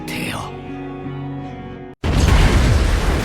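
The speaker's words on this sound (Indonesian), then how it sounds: "di sana Kai melakukan ledakan harakiri" A harakiri explosion in an anime fight erupts suddenly after a brief silence, a loud, dense roaring burst that follows a tonal musical or vocal passage and rumbles on to the end.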